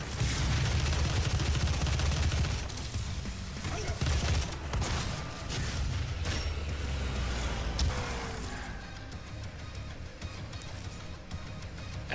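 Rapid, sustained gunfire from a weapon in the video game DOOM, loud dense bursts of shots with booming low end rolling continuously, easing slightly toward the end.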